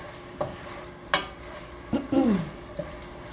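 Sausage fries in a pan with a steady low sizzle while a utensil stirs and scrapes it, giving a few sharp knocks and a short squeaky scrape. No one talks.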